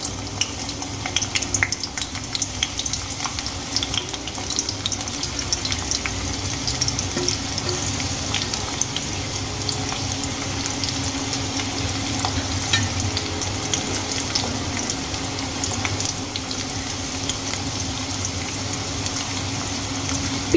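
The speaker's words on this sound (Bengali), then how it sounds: "পেঁয়াজগুলো আমি ব্রাউন করে ভেজে নেব।" Chopped onions frying in hot oil in a kadai, a steady, continuous sizzle held at an even level throughout, close up, with no talking.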